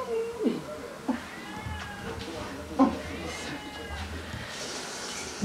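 A cat meows several times in short, clear calls spaced across the recording, fairly close, with people talking quietly in a room between the calls.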